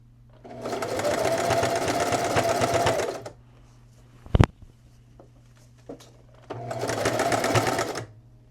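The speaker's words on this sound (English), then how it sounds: "you're going to pull the elastic and keep it straight while you sew it down" Sewing machine stitching elastic onto pants made from a crochet blanket: two loud, steady runs of rapid stitching, close by, separated by a quiet pause with a sharp click.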